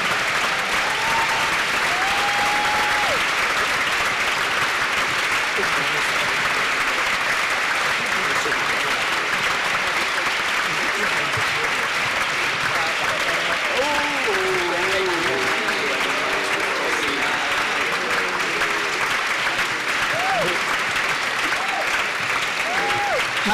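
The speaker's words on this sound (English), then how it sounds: "deserves a standing ovation, a good round of applause for a composer" A concert audience at a Ghanaian music event gives sustained, dense applause for a composer, loud and continuous for the whole stretch, with faint voices and cheers rising through it.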